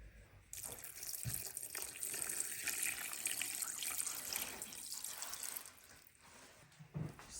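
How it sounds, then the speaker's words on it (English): Tap water runs steadily into a cooking pot holding cut cabbage for a holiday hunter's stew (bigos), a continuous faint splashing stream with a few small knocks. "I need to add enough water to cover this in the pot."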